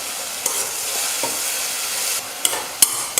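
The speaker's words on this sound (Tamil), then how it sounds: "ஒரு 2 நிமிஷம் வெங்காயம் வந்து எண்ணெயில் நல்லா வதங்கணும்" Onions saute in oil with a loud, close, steady sizzle, and a spoon stirs and taps against the pan several times, the taps growing sharper toward the end.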